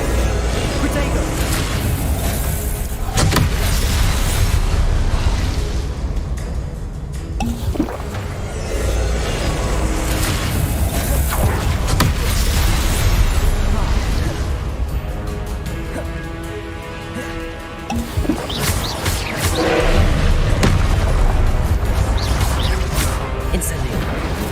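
Spell blasts in the Hogwarts Legacy video game rumble and crash as booming impacts and bursts in a dense, continuous stream of combat effects, with a voice speaking over them throughout.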